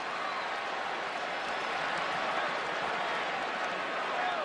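A football stadium crowd at Iowa State roars steadily in a broad, sustained wash of cheering and applause, loud and unbroken throughout.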